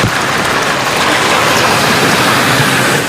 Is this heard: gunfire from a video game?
no